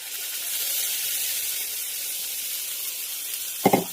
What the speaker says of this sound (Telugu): ఆ ప్యూరీని మనం ఇందులో ఇప్పుడు యాడ్ చేసుకుందాం ఫ్రెండ్స్.